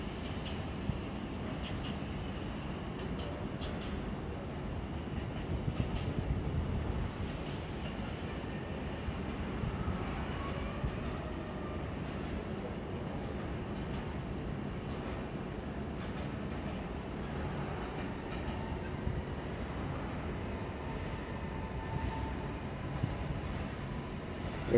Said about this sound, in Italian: E qui sono 700 metri di treno, eh?